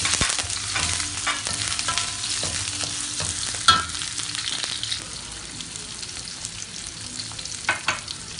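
Onions and green chillies frying in oil with fenugreek seeds for a salmon fish curry: steady close sizzling with occasional stirring scrapes and clinks.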